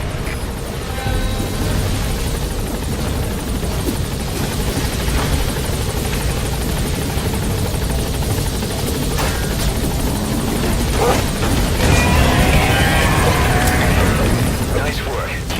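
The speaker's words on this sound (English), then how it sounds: "All right, the chopper's touching down." A helicopter touches down in Metal Gear Solid 5, its steady rotor drone and engine whine filling the scene continuously, loud and close, with game voices talking over it.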